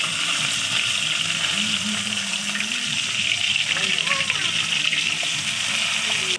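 Pabda fish frying in hot oil after being flipped, a continuous close sizzle with bubbling and light scraping, mixed with watery hiss and some background noise.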